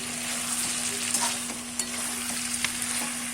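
Chicken sizzles in a hot frying pan while being stirred, a steady fry hiss broken by a few sharp scrape and clatter accents from the utensil.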